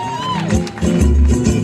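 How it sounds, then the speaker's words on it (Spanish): A carnival crowd at the Concordia Carnival 2022 roars loudly during the Comparsa Ráfaga figure presentation, with a sustained wash of cheering and crowd noise that swells toward the end. "Fuerte, fuerte el aplauso."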